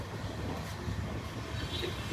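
A passenger train rolls along, heard from inside the carriage as a steady, close, dense rumble with no break.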